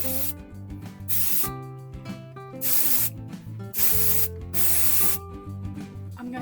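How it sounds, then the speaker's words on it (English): Living Proof Full Dry Volume Blast hair spray hisses out in several short, loud bursts about a second long, separated by brief pauses, while soft music plays underneath. "I'm gonna give my hair a good spray with this"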